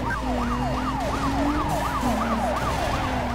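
A police siren wails in a rapid up-and-down yelp while chasing a car in Need for Speed Most Wanted (2005), heard loud and continuous over a steady engine drone.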